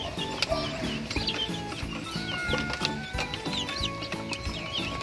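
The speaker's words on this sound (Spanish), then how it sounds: "mis pollitos están comiendo" Small chicks feeding eagerly, their high peeping chirps scattered throughout over a steady rhythmic music bed, moderately loud and close.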